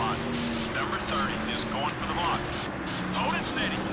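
Stock car engine redlining in Nascar Thunder 2004, a steady strained drone with slight pitch wavers, continuous beneath a talking voice.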